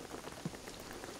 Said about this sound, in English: the rain is gonna flood the place